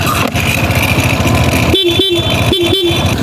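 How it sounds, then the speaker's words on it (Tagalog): A loud dual horn on a Suzuki Burgman scooter honks in two pairs of short toots over steady engine noise, close by. "So yan guys yung loud horn."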